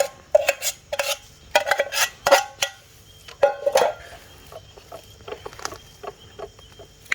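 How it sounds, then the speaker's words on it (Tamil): Fried beef biryani, made with basmati rice, is mixed in a pot. A spoon scrapes and clanks against the metal in irregular bursts of sharp knocks and rattles, close by, with soft rustling between the strikes. "இப்போ பிரியாணியை போடுறோம். ஸோ போட்டு மிக்ஸ் பண்ணணும்."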